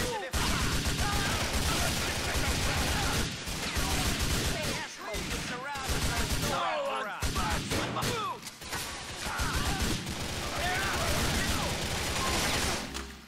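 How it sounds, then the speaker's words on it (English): Dense bursts of gunfire in GTA 4, loud and nearly continuous, with rapid cracks and blasts over a busy game soundscape. "Who the fuck is shooting at me?"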